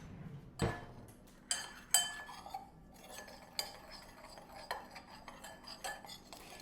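A metal spoon stirs red pepper seasoning in a bowl, giving quiet, close clinks and scrapes at an irregular pace, with one soft thump near the start.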